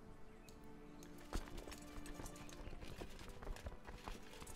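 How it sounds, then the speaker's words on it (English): Horse hooves clip-clopping in the medieval strategy video game Crusader Kings II, a quiet, irregular series of hoof beats with one sharper knock near the start, over faint background game sound. "Let's saddle my horse, I suppose."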